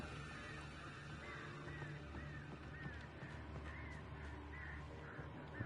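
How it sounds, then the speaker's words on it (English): Crows caw repeatedly at a distance in Alan Wake Remastered, faint harsh calls spaced through a low ambient hum. "I don't trust those birds."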